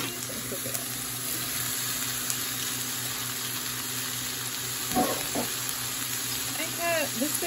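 Vegetables fry in a pan with a steady, close broadband sizzle and crackle, while a few brief clinks and stirring scrapes sound near the end.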